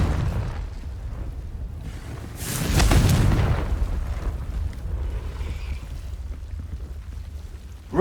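A blasting curse explodes in the Hogwarts Legacy video game as a single loud, deep boom a few seconds in, swelling over a low rumbling ambience and then rolling away slowly, with no talking.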